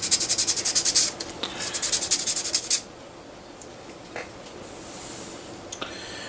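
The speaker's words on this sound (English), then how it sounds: "Just dip it in some water and just kind of very lightly, very gently go along the surface and buff all the tiny scratches and stuff out from the file." A resin model part of an SD Zaku kit is wet-buffed by hand to remove file scratches, a quick run of close rhythmic rubbing strokes for about three seconds, then quiet with a few faint touches.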